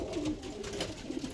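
Racing pigeons coo around nest boxes in a loft, a soft, continuous murmur of overlapping low calls close by, with a few fluttering rustles and no talking.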